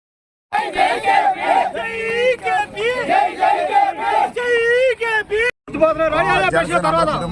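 Dense crowd of Telugu Desam Party supporters at a candidate's nomination rally, many voices shouting and chanting together at close range, with a brief cut near the end before the loud babble resumes.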